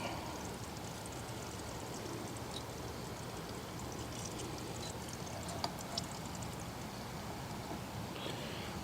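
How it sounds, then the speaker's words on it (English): Steady broadband rush of water pouring continuously into a portable air conditioner for several seconds, close by, with a faint trickling texture and no talking. "Now let's pour some water in here."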